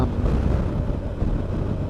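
Wind buffeting an outdoor microphone on a warm, windy afternoon, a close, continuous low rumble that holds steady throughout with no one talking.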